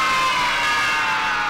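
Children cheer and shout together in a short, bright burst at the end of a night in the Five Nights at Freddy's video game, a dense steady crowd sound with no talk over it.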